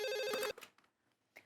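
An indoor telephone rings with a loud, bright electronic trill that cuts off after half a second, leaving faint shuffling and a short noise near the end.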